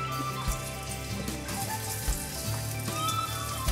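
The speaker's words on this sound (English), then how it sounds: "I'm going to add in the onion and let that fry for about 5 minutes" Onion frying in oil in a frying pan, a steady dense sizzle with crackling pops, close and continuous throughout without any talk.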